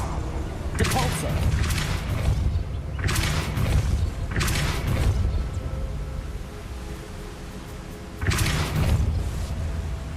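Depulso spell cast repeatedly in Hogwarts Legacy, three or four loud whooshing blasts spaced over a steady rumbling game background, with the character's voice mixed in.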